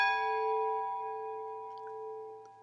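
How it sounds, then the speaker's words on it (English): A notification bell sound effect rings once, a clear bright chime with sustained harmonic tones that slowly decay, with a couple of faint high pings near the end. "You heard that bell? That bell will give you that little alert"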